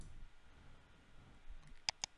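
A computer mouse gives two sharp, quiet clicks near the end while editing an image in GIMP, close and isolated over a low room hush.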